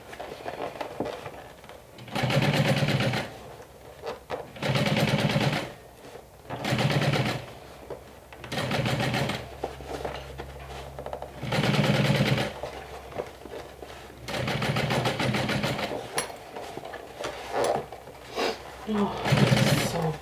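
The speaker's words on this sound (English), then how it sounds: "So if your machine can handle it, just keep top stitching through the handles" Bursts of a sewing machine top stitching through thick bag handle layers, several short runs of fast needle whirring separated by pauses, with a person talking between the runs.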